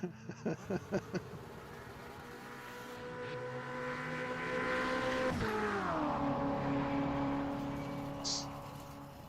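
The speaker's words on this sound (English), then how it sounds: "Tossing the car into the corner." A GT race car engine at an official 24-hour race practice session, loud and close, opens with rapid staccato bursts, then settles into a sustained, harmonically rich roar whose pitch climbs, drops sharply and carries on steadily.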